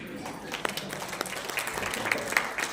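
An audience claps at a poetry award ceremony of the Mansarovar Sahitya Academy in Raipur, a loose patter of scattered hand claps that runs steadily beneath a voice speaking.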